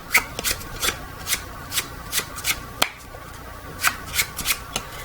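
Playing cards shuffled by hand during a magic trick, with a quick run of crisp riffling bursts close up, about a dozen in uneven rhythm and no voices.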